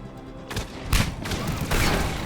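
Turret gunfire in the video game Mass Effect 3, a dense fusillade of loud, overlapping shots and thuds with bursts around the middle and near the end, heard alone without talk.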